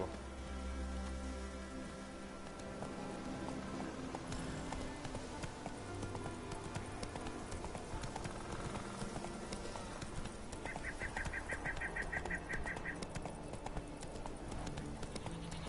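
Steady clip-clop of a horse's galloping hooves in the video game The Witcher III runs throughout, with a brief high tonal chirp partway through and no talking.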